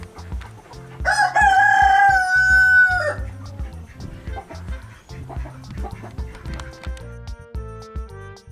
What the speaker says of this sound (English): I don't think Elvis is interested in any of the chickens except the yellow ones